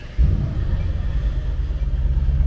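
A 2018 Mercedes-Benz S560 coupe fires up with a sudden low rumble, then settles into a deep, steady idle heard from close inside the cabin.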